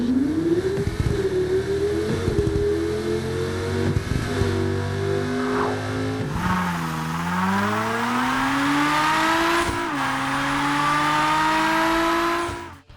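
Car engines from the racing video game Wreckreation rev and accelerate continuously, pitch climbing and dropping with gear shifts, with a brief tire squeal, loud and close with no talk.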